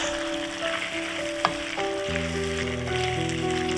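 Salmon goes into a hot pan of tomatoes and sizzles with a constant close hiss, with a brief knock partway through and a steady tonal hum running underneath.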